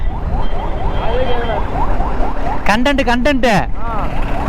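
An ambulance siren wails past on the road, heard from a motorbike over steady engine and wind rumble, with a faint repeating whoop swelling into a loud, close burst of rapid yelps before trailing off.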